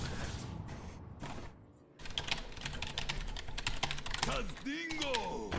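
Rapid clicking keystrokes on a computer keyboard during a Hearthstone Arena session, a steady close patter of taps that runs through most of the clip while someone talks over it.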